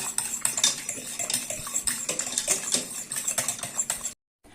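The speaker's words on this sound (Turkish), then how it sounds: "Ocağa koymadan arkadaşlar şöyle çikolata sosumu da önce burada bir karıştırıyorum" Chocolate sauce for profiteroles being stirred in a pot before going on the stove, a rapid run of close metallic scraping and clinking from the utensil against the pot, cutting off abruptly at the end.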